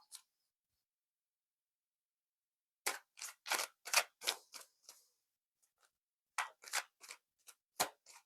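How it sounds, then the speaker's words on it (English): Crisp bursts of tarot card riffling and slapping, several quick shuffles in a row after a silent pause, fairly close and without any talking. "So I sorted this deck, so I have to give it a good shuffle."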